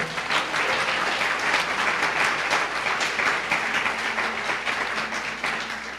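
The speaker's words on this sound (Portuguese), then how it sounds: "Você pode dar uma salva de palmas ao Senhor?" Congregation at a Nova Vida church service in Catete applauding, dense continuous clapping from many hands that fills the room evenly and holds steady before tapering slightly.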